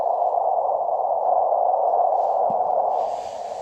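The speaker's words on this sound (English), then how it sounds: "the side tone on this thing is fixed, and it's not very loud." A single steady, fairly loud sidetone from a QRP radio key, used outdoors in the field, holding unbroken for a few seconds before a faint hiss joins at the end.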